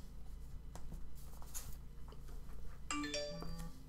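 A phone rings indoors, a short electronic ringtone of stepped tones that starts partway through, over a quiet background hum.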